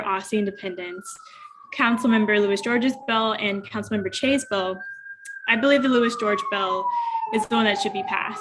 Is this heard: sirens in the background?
yes